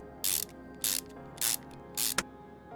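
Four evenly spaced bursts of ratcheting clicks as long throttle screws are driven in while working on a Nissan Fairlady in Car Mechanic Simulator 2021, each burst short and crisp, ending with a sharp tick.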